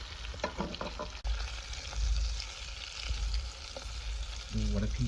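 Brook trout cooks over an open fire, with a steady crackling sizzle and low rumble heard close by, a couple of brief knocks, and a voice partly audible near the start.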